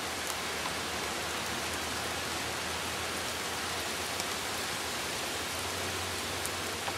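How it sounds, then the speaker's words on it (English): Heavy rain pours steadily in a late-summer rainstorm, a dense, even hiss of drops on outdoor surfaces close by, unbroken and without any voices. "Look at this pouring wet rain."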